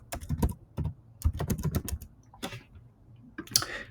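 Close-up typing on a computer keyboard: quick clustered bursts of keystrokes with short pauses between them, and no one speaking.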